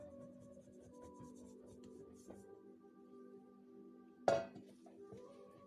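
Quiet, steady scraping and rubbing as a butter and flour dough mixture for kefir yeast pirozhki is stirred in a bowl, with one sharper knock near the end and no talk.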